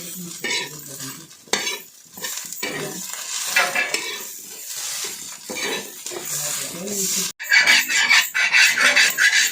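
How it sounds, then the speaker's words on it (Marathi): Kurdu leaf vegetable is stir-fried in a pan with onion and masala, a utensil scraping and stirring against the metal with soft sizzling underneath, in irregular close strokes throughout. "पुन्हा परतून घ्यायची बरं"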